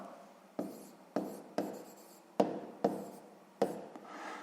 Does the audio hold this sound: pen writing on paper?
yes